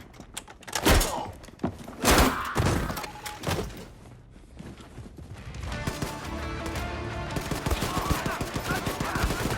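Gunfire erupts in a first-person shooter set in a Nazi courthouse, with a few loud separate bursts early on, then a denser, steadier clatter of continuous shooting and action filling the rest.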